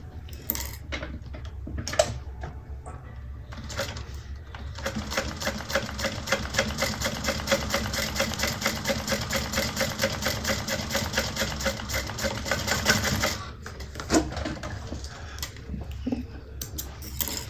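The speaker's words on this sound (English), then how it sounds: "now I'm going to stitch down the other side" A sewing machine runs steadily as it stitches down the side of a Scottie Convertible Bag, its rapid even rattle holding for about eight seconds between quieter handling noises, with no talk over it.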